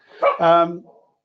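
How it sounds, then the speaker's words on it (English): A dog lets out one short, close bark that slides into a brief whining yelp, heard in a quiet indoor space during a presentation on personalisation. "here goes the dog"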